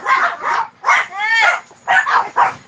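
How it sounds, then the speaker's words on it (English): Excited puppies bark, yip and whimper indoors in several short bursts with a rising whine between them, close and loud. "Oh, puppies are not happy."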